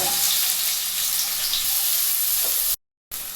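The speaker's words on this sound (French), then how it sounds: "Quand l'huile est chaude, on va balancer les oignons." Onions frying in hot olive oil in a pan, a loud steady hiss and crackle of sizzling that runs continuously, broken by a brief cut to silence near the end before resuming.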